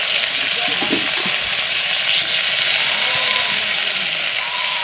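Frying chicken and potatoes crackle and hiss in a pan as tomato goes in, a steady loud sizzle with brief clatters near the start.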